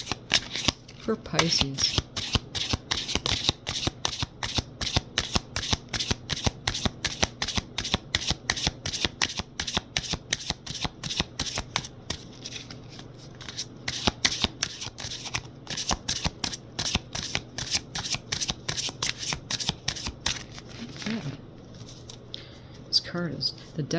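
A tarot card deck is shuffled rapidly and repeatedly, crisp riffling snaps in a steady rhythm close to the microphone, while someone talks softly over it.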